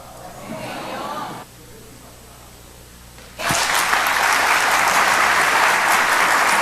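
A church congregation bursts into loud, sustained applause after a quieter stretch with faint voices, the clapping dense and close, filling the room until the end.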